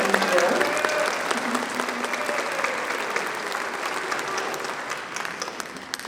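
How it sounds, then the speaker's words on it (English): Banquet audience gives a round of applause for gold partners, a steady, moderately loud wash of many hands clapping throughout a large room, fading slightly toward the end. "Let's give them a little round of applause"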